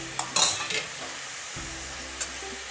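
Grated radish with turmeric, sugar and spices frying in a pan, a quiet steady sizzle with a few sharp scraping stirs near the start and another brief clink later.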